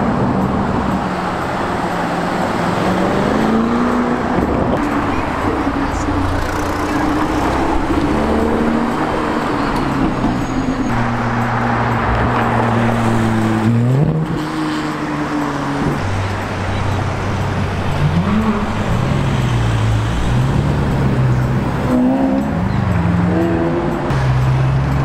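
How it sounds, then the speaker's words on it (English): A Bugatti Chiron hypercar drives at speed, its engine note heard loudly from inside as a steady roar that climbs and drops through several gear changes, with road noise underneath. "This was my first ride in a hypercar."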